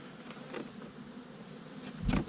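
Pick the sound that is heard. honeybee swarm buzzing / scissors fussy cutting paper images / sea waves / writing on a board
honeybee swarm buzzing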